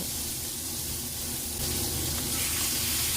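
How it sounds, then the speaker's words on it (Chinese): Duck legs sear in hot oil in a wok over high heat, with scallion and ginger, giving a steady, dense sizzle that grows slightly louder partway through, with no voices. "用大火把鸭腿煎至金黄"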